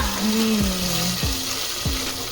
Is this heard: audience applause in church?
no